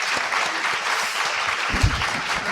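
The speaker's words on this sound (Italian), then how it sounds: "io farei un applauso ai nostri due" Audience applause at a public meeting on the 2026 justice-reform referendum at the Ateneo Veneto in Venice, a steady continuous clapping from a hall crowd with a faint voice briefly underneath.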